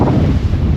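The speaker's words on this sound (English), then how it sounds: "It's super windy." Strong wind buffets the microphone while riding a Rattan Sequoia e-bike outdoors, a loud, steady low rumble with gusty fluctuations that fills the whole moment.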